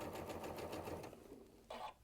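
A domestic sewing machine stitches a seam in a fast, even mechanical chatter for over a second, pauses, then runs a short final burst, close and fairly quiet.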